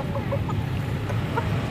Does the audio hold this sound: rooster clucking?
yes